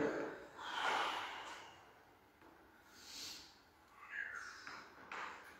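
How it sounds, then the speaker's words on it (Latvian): Slow, deep breathing during a qigong session outdoors, with a long full inhale followed by a soft drawn-out exhale, close and quiet, repeated in gentle waves. "Ielpa pilnas plaušas, izelpa pa visu ķermeni."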